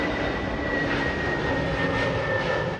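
Loud, continuous jet engine roar from an IndiGo passenger plane passing close over a railway station near Bengaluru's Kempegowda International Airport, holding steady with a faint high whine on top and no voices.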